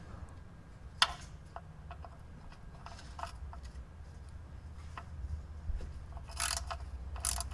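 Ratchet undoing the two 10mm bolts holding the oil level switch on a Mercedes W124 300E-24, giving faint clicking runs with sharper metallic ticks and clinks throughout, close by and without speech.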